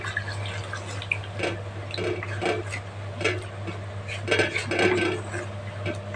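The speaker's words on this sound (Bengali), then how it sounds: "এটার মধ্যে এখন আমি দিয়ে দিচ্ছি 1 কাপের মতো দুধ" About a cup of milk poured into a pan while making dudh puli, soft liquid splashing and dripping with light clinks of a utensil against the pan over a steady low hum.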